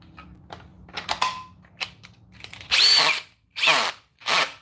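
A few light clicks and handling noises, then a cordless drill whirs in three short, loud bursts, each spinning up and cutting off.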